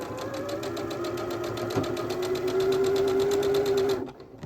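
A sewing machine chain piecing quilt block patches with a quarter-inch seam, running in a fast, steady mechanical whir with rapid regular stitching clicks, close and continuous, stopping abruptly near the end.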